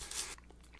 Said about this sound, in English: Can I ask my question while you're chewing?